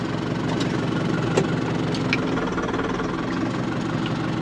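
A tractor engine idles steadily at close range on a farm just before onion planting, a continuous low rumble with faint mechanical knocking and no talk.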